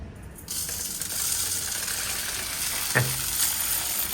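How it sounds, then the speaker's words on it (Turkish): Coarse rock salt is poured over olives being cured, a steady gritty rustling pour with a sharp clink partway through. "Şimdi içine tuzunu koyacağız. Bismillahirrahmanirrahim. İri kaya tuzu."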